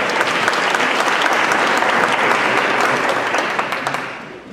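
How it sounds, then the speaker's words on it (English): A large conference audience at the 2012 Livable Communities Summit claps in a dense, loud wash of applause that holds steady and then begins to fade toward the end. "Give yourselves a round of applause."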